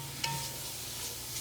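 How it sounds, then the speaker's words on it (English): Vegetables sizzle dry in a warm Le Creuset pot, a soft steady hiss with a faint clink near the start, close and low in level with no talking. "you can hear the sizzle because the Le Creuset is rather warm at this point"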